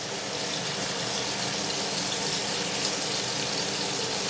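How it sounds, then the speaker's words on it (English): Boiling water pours from a kettle onto pasta, a steady, loud, continuous gushing stream with no talk. "now my kettle is ready of boiling water, so let's put that onto the pasta"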